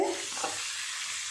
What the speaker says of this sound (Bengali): চিংড়ি মাছ হালকা করে ভেজে নিয়েছি, তুলে নেব